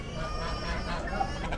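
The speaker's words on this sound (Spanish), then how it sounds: "La gallina que dijo la señora." A chicken clucking at an outdoor farmers' market in Monterrey, Mexico, faint and brief against a busy, steady market background.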